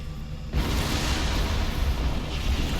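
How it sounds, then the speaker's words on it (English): Explosions in the sci-fi space game Star Trek Online go off during a Borg research destruction mission: a sudden loud boom at half a second gives way to a sustained, rumbling roar that holds steady to the end, with no talk. "I do like that we can stand right next to explosions and be just fine"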